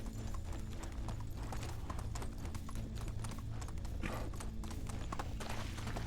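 Horse hooves clip-clop at a steady walking rhythm in Medieval Dynasty, close and continuous over a faint outdoor ambience for several seconds, with no talking.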